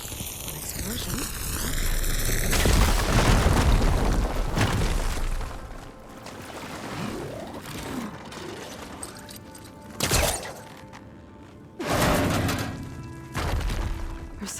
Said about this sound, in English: Should be able to blow up that fire gleam.